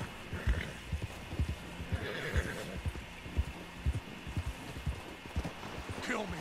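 Horse hooves pound steadily while riding in Red Dead Online, a brisk, even clip-clop rhythm with a whinny near the end, as players talk over it.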